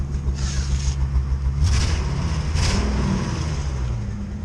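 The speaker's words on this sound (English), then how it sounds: "So now what I'm trying to deal with is this miss. You can hear it." A Ford F-350 truck engine idles with a misfire, a low, uneven rumble that stumbles irregularly, steady and close, with no talking.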